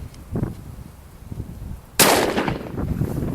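A single loud blast from a Taurus Judge revolver cracks out abruptly partway through, close and sharp, with a short ringing tail after some quieter handling noises.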